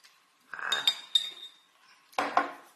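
Metal spoon clinking against a dish while scooping Thai chili paste (nam prik), a few sharp chinks in two short bursts with a scraping clatter, close and fairly quiet, no talking.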